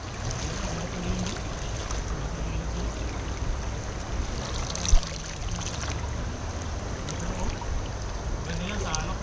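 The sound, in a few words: strong river current flowing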